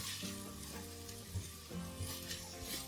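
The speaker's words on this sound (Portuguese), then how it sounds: "Vou começar colocando a cebola e o pimentão. Vou deixar isso aqui refogar por cerca de 2 ou 3 minutos." Onion and bell pepper sauté in a hot pan with a continuous close sizzle and occasional stirring scrapes, and no one speaks.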